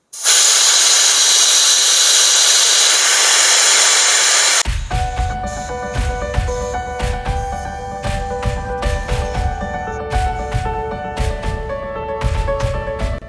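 A car tire deflating: air hisses out loudly and steadily for about four and a half seconds, then cuts off abruptly, giving way to quieter tonal sounds.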